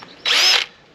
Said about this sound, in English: Underwater drill.